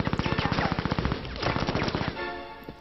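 Rapid bursts of video game gunfire in The Simpsons: Tapped Out rattle off in fast regular volleys, a short pause, then another string of shots, with cartoon voices briefly over the end.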